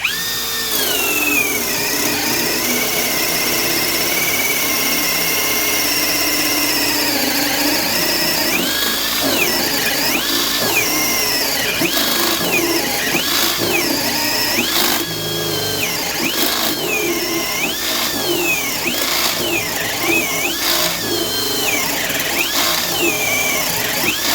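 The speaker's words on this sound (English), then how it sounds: "we'll see if it can do a 1-inch spade bit in high gear" A Hychika 20V brushless hammer drill in high gear bores with a 1-inch spade bit, a loud continuous whine whose pitch dips and recovers repeatedly as the bit bites and loads, running steadily for the whole stretch with no talk.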